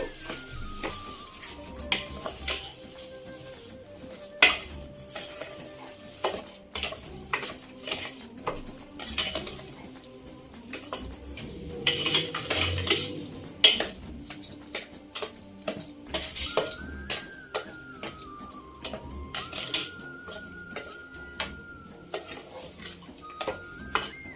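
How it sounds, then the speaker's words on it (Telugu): A spoon stirring sugar and semolina (rava) together in a metal pot while making apallu, giving repeated scraping clinks and taps in an irregular rhythm, close and moderately loud, with faint background music. "పంచదార రవ్వ బాగా కలిసేలాగా ఉండగట్టకుండా కలుపుకుందాం."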